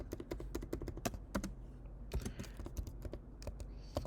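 Rapid typing on a computer keyboard while entering a currency purchase in accounting software, a quiet, close patter of key clicks with a short pause midway and no talk.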